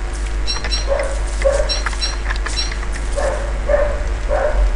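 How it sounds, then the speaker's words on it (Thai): A dog barks nearby in repeated sharp bursts, roughly five or six barks in uneven pairs over a constant low hum. "โอ้ยเห่าทำไมวะ"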